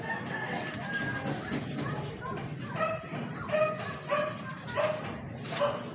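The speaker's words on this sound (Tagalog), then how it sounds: "Aso." A dog barks repeatedly in short, evenly spaced yelps at moderate distance, with roosters crowing in the background and people talking throughout.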